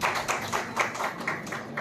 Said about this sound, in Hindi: तो जोरदार ताली के लिए।